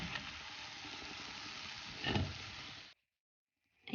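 Cooked chicken pieces for homemade nuggets being stirred in a hot pan, a steady sizzle with a brief scraping burst near the end before cutting off to silence.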